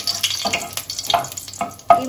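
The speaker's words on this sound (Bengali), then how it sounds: "এবার আমি এই যে 2টো 3টো শুকনো লঙ্কা ফোড়ন দিয়ে দিলাম" Dry red chillies hit hot mustard oil and sizzle loudly up close, with bursts of crackling and spattering over about two seconds.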